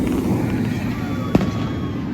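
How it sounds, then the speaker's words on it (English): Fourth of July fireworks at Six Flags Great America amusement park, a dense, loud outdoor rumble of continuous bursts with one sharper crack standing out, heard from the crowd amid background noise. "Fireworks are going."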